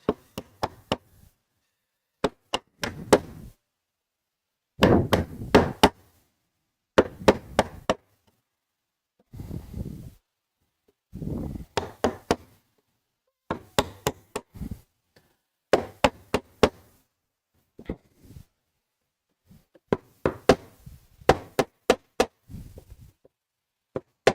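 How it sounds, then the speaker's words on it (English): Mallet blows drive a chisel into hard reclaimed wood while a rustic door is built, landing as sharp knocks in short bursts of two to five strikes separated by brief pauses, close and loud. "I think we're better with the other chisel, actually. Wood's hard."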